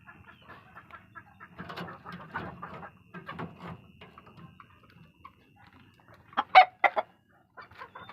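Chicks and chickens in a backyard coop give scattered soft clucks and cheeps, with a louder burst of calls near the end against a quiet background.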